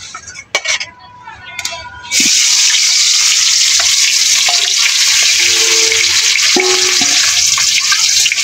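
A fish head sizzles in hot oil in a wok, a loud continuous hiss after a quieter start with a few clinks and bumps; a voice is briefly audible early on.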